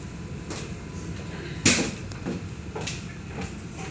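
Light rail tram doors at the QVB stop in the Sydney CBD open with a sharp thump and hiss, followed by lighter clicks and sliding knocks amid station ambience.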